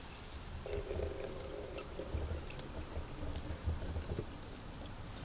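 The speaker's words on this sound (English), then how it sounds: "I'm going to go pour it into the new fuel filter to see if it actually filters it out." Old, dirty fuel from a fuel filter that ran 300,000 miles is poured into a new fuel filter, making a steady close splashing trickle over a low background rumble.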